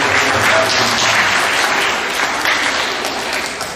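An audience at a middle school awards assembly gives a steady round of applause, dense and sustained, then tapering slightly at the end.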